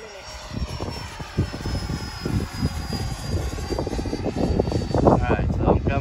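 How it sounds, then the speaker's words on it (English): A Freewing 90mm F-22 RC jet on 6S power flies past, its ducted-fan whine holding steady and then swelling louder as it nears, with a pilot talking intermittently over it. "Slow the jet down."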